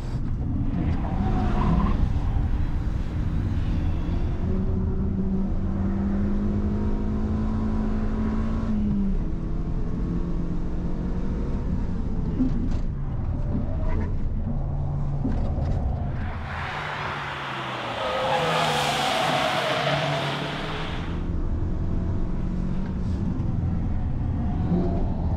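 Renault RS hot hatch accelerating hard on a race track, a steady loud engine drone rising through the gears, with a brief whooshing roar as it passes near the end.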